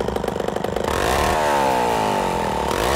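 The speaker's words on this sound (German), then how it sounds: "Thaddäus, pack die Kettensäge weg!" A chainsaw runs loud and close with no talk. It sputters in rapid pulses at first, then settles into a steady high-revving drone with a shifting pitch.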